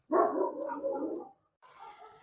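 Small dogs outdoors in a yard let out a sustained, yappy bark-whine, followed after a short pause by a thinner, higher second call, close and moderately loud, with no talk.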